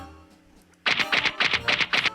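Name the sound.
wood clapper being struck in Nancy Drew video game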